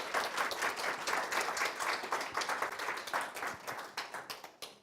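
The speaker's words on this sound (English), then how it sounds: "would you all please give Tina Baird a very warm round of applause" A lecture audience gives warm applause for Tina Baird, fairly quiet and even at first, then thinning to a few separate claps that fade out at the end.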